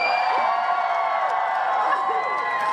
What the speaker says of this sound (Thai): ขอเสียงกรี๊ดแฟนๆหน่อย